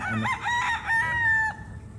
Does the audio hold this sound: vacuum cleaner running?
no